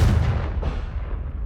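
A single booming blast from the Confringo blasting curse in Hogwarts Legacy, a loud low burst at the start decaying into a rumbling tail over about a second and a half.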